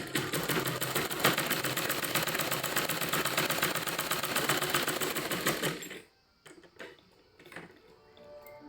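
A sewing machine runs steadily and loudly while stitching the hem of a petticoat, a fast continuous mechanical whir that stops abruptly, leaving faint clicks and handling noises.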